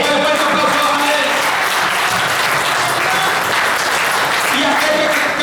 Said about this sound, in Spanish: que le fuerte aplauso a él.